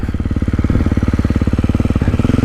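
A 2024 Beta 450RX dirt bike engine runs while being ridden, loud and close, with a rapid, even four-stroke thumping pulse that holds steady and swells slightly as the throttle changes.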